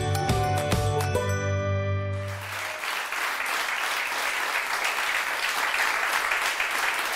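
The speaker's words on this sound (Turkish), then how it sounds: "Efendim bu alkışlar" Studio audience applause on a Turkish daytime talk show, steady broad clapping that takes over after a fading musical sting and carries on evenly to the end.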